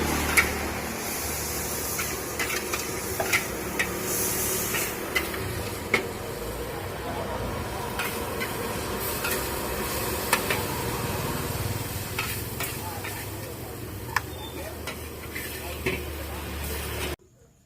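Mie goreng fries on a stove, a steady sizzle with scattered clinks and scrapes of a spatula stirring the noodles, continuous and close, with a talking voice faintly mixed in.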